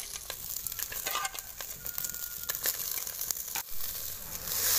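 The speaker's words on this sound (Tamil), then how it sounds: "இப்போது செட்டி நல்லா சூடி ஏறிடுச்சு, இப்போ நண்டு சேர்த்துக்கலாம்." Half a kilo of crab frying in a hot pan with no oil: a steady, crackling sizzle with sharp popping bursts and clatters of stirring throughout.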